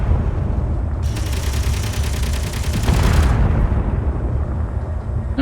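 Sustained gunfire in the video game Space Engineers, a dense rattling burst lasting a couple of seconds over a constant loud rumble of game noise.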